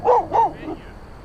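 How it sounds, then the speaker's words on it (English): A dog gives two close, loud barks in quick succession, followed by a softer whimpering yip that trails off. "Hey, pup. Come here. Come here. There you go. Nice dog."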